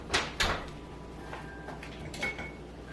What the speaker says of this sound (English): let's get this out of the oven.